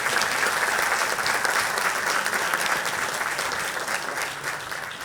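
A theatre audience applauds with dense, continuous clapping that stays strong throughout and eases only slightly toward the end, with no speech over it.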